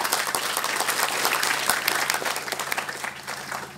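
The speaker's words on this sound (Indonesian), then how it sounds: "Tepuk tangan untuk semuanya." A crowd at a PSHT Rayon Pilang Payung II welcoming celebration for new members in Ngawi breaks into lively, sustained clapping, dense and close, staying strong throughout before easing slightly near the end.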